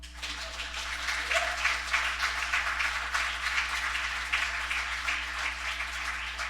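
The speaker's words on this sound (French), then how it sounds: "OK, vous pouvez applaudir si vous voulez." An audience claps at a startup accelerator demo day celebrating a graduating cohort, a moderate, steady wash of applause at middle distance that holds evenly, with faint room hum underneath.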